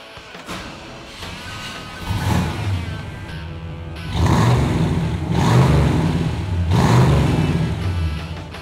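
A 1964 Pontiac GTO with the Tripower engine idles, then revs hard in several loud blips that rise and fall, the engine close and alone.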